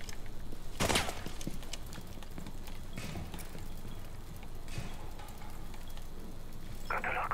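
Gunfire in Rainbow Six Siege comes through as a quiet, distant burst of shots with a few scattered cracks afterward, heard under a steady background of game noise.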